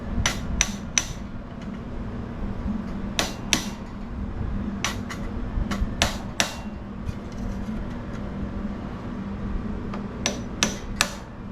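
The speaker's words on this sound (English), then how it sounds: "Just tap it down like that." A small engine valve cover sealed with gasket maker is tapped down, a series of sharp, irregular metallic taps, close and clear over a low background hum.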